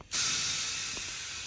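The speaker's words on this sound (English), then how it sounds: "I'm gonna force air in it, just enough so the bead will catch" A sudden loud hiss of compressed air forced into a tire to seat its bead on the rim starts abruptly and continues steadily, close by and without voices.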